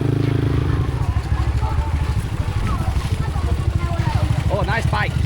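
A Honda motorbike passes on a street in Narathiwat in Thailand's deep south, its engine a steady low rumble throughout under loud street noise, with voices chattering nearby.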